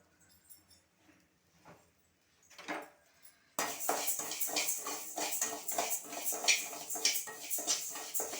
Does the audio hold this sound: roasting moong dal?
yes